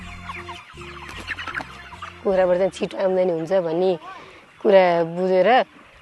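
Hens cluck in a farmyard, with several bursts of rising, squawking calls from fowl amid low background voices and a steady hum.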